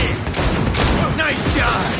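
Gunfire during combat in the video game Cyberpunk 2077: rapid, dense volleys of shots that run continuously through a loud, busy mix of game sound, with voices faintly underneath.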